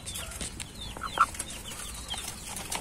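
Domestic chickens in a coop give soft, scattered clucks and a brief rustle of wings, fairly close and moderate in loudness, with one slightly louder cluck partway through.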